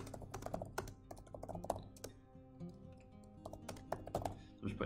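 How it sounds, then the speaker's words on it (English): Rapid typing on a computer keyboard while entering text in a word processor, with close, irregular clicky keystrokes running continuously throughout. "we're going to type some text"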